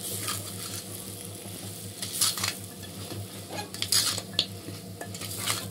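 Boiled mutton is stirred into masala in a pan, giving a continuous low sizzle with repeated scraping and clinking of a spoon against the metal, close and steady with no talking.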